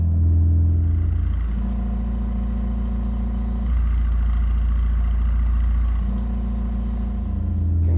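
Mercedes-AMG GT Black Series engine idling with a deep, steady exhaust drone that shifts in tone twice as the exhaust button is pressed, loud and close with no talk.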